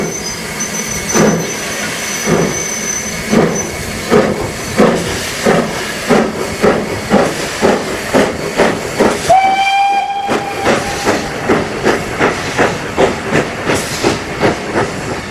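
A former Great Eastern J15 steam locomotive hauls a freight train at Beamish with loud, rhythmic exhaust chuffs spaced evenly, a steady hiss beneath, and a short whistle blast partway through.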